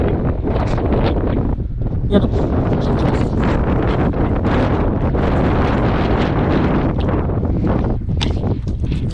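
Strong wind roars into the microphone outdoors beside a roadside copper ore vein, a constant loud buffeting rumble throughout, with someone talking briefly over it.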